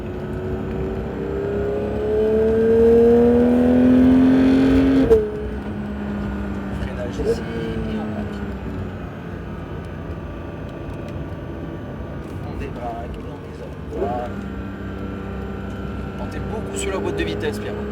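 Porsche GT3 engine lapping a race track, a rising rev building for a few seconds, then cutting off abruptly and settling into a lower, varying drone with short bursts of acceleration, while an instructor talks over it throughout.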